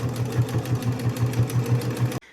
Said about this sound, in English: to take this to my sewing machine, and I'm going to sew down both of these short edges to hold my pocket in place